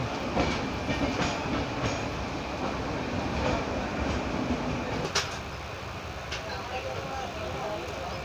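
A passenger train moves through Manmad railway junction in India, heard from on board as a loud continuous rumble with rail clatter and a few sharp metallic knocks, steady throughout with no talking.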